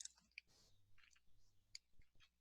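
A computer mouse gives several faint, scattered clicks in a quiet room, some sharp and isolated, with no voices.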